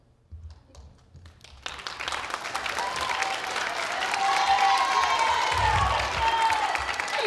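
An audience at a middle school band winter concert breaks into applause after a brief quiet start. The clapping swells into sustained, dense applause from the whole crowd, with a few faint cheers mixed in.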